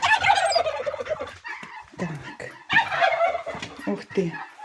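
Two turkeys gobble in rapid, warbling bursts, close and fairly loud, with short pauses between calls.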